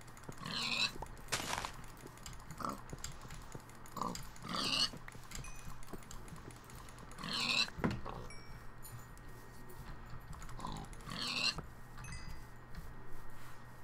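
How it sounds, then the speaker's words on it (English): Pigs in Minecraft, several short grunting oinks spaced at intervals over a quiet game background, moderately close. "there's so many pigs"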